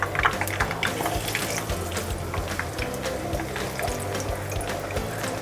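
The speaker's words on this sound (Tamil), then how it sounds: "இப்போ பாருங்கள் எண்ணெய் நல்லா சூடாயிடுச்சு. இப்போ நம்ம சிக்கனை சேர்த்துக்கலாம்." Marinated chicken kebab pieces frying in hot oil, a steady close sizzle and bubbling hiss with scattered crackles, continuous and fairly loud, with no talk.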